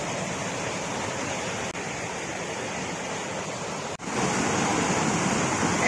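A waterfall roars with a continuous, loud broadband rush of water that stays steady throughout, briefly dipping twice before swelling back, with no voices present.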